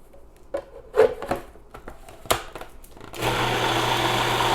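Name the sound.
mixing black bean brownie batter with maple syrup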